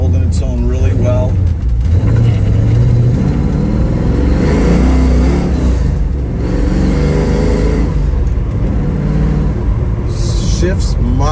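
A 1972 Chevrolet Nova engine idles around 700 RPM and revs loudly close by, a steady rumbling drone that swells and settles, with a voice talking over it.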